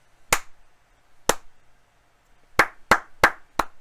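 Six sharp hand claps recorded on a budget lavalier mic during a mic test: two spaced single claps, then four quicker ones in a row, close and crisp against a quiet room.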